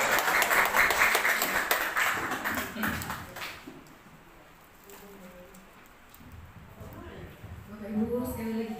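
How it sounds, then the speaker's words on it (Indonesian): A school audience at SMP N 4 claps after a presentation, a burst of dense applause that fades out midway before a voice starts speaking over the quieter tail. "sekali lagi kita berikan tepuk tangan yang paling meriah untuk materi kita ini"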